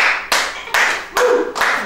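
Hands clap four times in a slow, even rhythm, each clap sharp, loud and close with a quick decay, and no voices over it.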